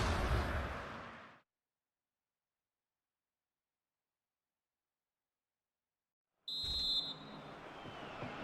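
A referee's whistle sounds in a football video game, one short, shrill blast cutting through crowd noise after a stretch of near silence.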